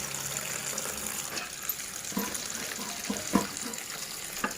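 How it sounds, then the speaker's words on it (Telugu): Leafy greens are swished and rinsed in a basin of water, giving soft, steady splashing and trickling close by with a few small sloshes. "మళ్ళీ రెండోసారి కూడా వాష్ చేసుకుంటానండి"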